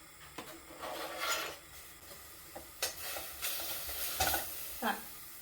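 Beetroot frying in a pan for Ukrainian borscht, a soft sizzle under scraping, stirring strokes that come in irregular bursts, fairly quiet and close.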